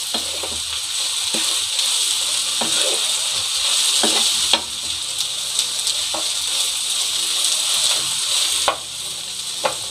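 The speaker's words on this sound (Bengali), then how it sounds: "এখন চালগুলো ভাজা হয়ে গিয়েছে, নেড়ে মিশিয়ে দিচ্ছি।" Rice frying in a pan for a Bikrampur-style sak spice mix, a steady close sizzle with periodic scraping stirs of a utensil across the pan, no talking.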